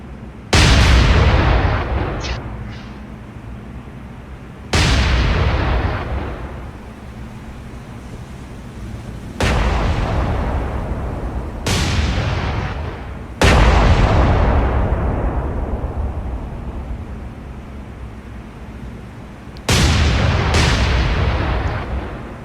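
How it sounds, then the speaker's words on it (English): Heavy naval guns of a battleship's rear turrets booming in the video game War on the Sea, five or six loud, deep blasts at irregular intervals, each rolling off into a long rumble over a steady bed of wind and ocean surf. "Rear turrets, they're firing, but they're not really doing anything."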